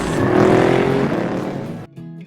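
Car engine roaring past on a road trip, loud and near at first, then fading before cutting off abruptly into a brief tonal sound.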